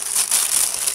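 Crinkling of a large plastic package, a continuous bright rustle and crackle close by with no speech, lasting about a second.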